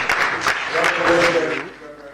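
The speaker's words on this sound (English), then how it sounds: "Round of applause again, ladies and gentlemen." An audience applauds at a live event, a dense burst of clapping that fades after about a second and a half as a voice begins talking over it.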